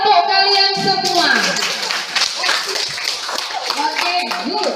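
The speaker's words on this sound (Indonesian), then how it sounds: "Tepuk tangan untuk kalian semua." Children clap together in a classroom, with a quick burst of hand claps mixed with excited young voices talking and calling out over it.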